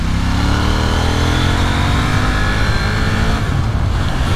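A 2021 KTM 890 Duke motorcycle ridden along country lanes, its engine a loud continuous drone that holds steady and then shifts pitch slightly near the end, with no speech.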